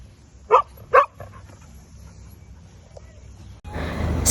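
Holly the dog barks twice in quick, sharp bursts close by at the beach, then a loud, steady rush of noise swells in at the end.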